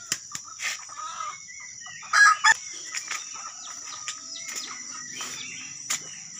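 Chickens in a yard crow and cluck around a morning feeding, with a loud crow in the middle and scattered clucks and calls throughout, over a steady high insect-like background.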